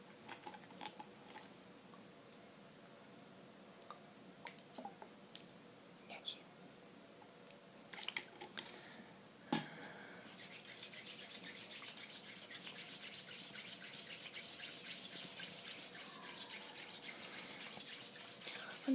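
Water poured over a person's hands for washing in an outdoor rescue setting, a steady broadband splashing stream that starts midway and continues loudly after quieter rustling and whispered talk.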